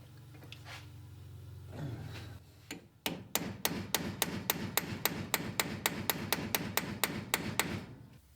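Steel roll pin punch struck repeatedly with a hammer while working on a 1969 B-body steering column, roughly twenty sharp, evenly spaced metallic blows at close range, starting after a brief low hum.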